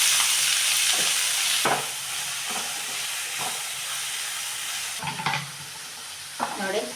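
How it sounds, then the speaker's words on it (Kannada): A green chilli, cumin and garlic paste fries in hot oil for a palak dal, hissing steadily under repeated spoon stirs and scrapes that come and go, heard up close with no talk. "ಚೆನ್ನಾಗಿ ಎಣ್ಣೆಯಲ್ಲಿ ಫ್ರೈ ಆಗಲಿ."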